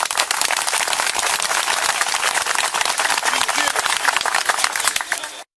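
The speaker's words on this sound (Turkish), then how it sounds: "Bravo. Alkış." An audience at a Turkish commemorative gathering breaks into loud, sustained applause, a close and dense wash of clapping that holds evenly for several seconds before cutting off abruptly.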